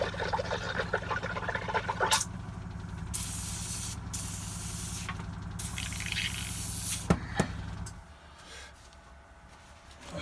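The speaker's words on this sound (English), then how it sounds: "That is not a happy airbrush. So we're going to dunk clean it." A struggling airbrush is dunk cleaned, sprayed hard into a cleaning pot: a loud, steady hissing spray with a gurgling edge runs for about eight seconds, briefly cuts out mid-way, then drops to a quieter hiss.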